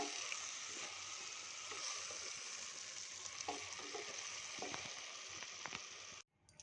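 Vegetables with green chilies fry in oil for a tomato-rice-style pulao with pigeon peas, a steady close sizzle with faint clicks of stirring, cutting off abruptly near the end.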